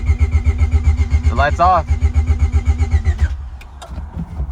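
A Honda B16A engine cranks on the starter in a fast, regular, loud chug close by, building oil pressure. A person speaks briefly partway through, and the cranking stops abruptly, leaving a quiet tail with faint clicks.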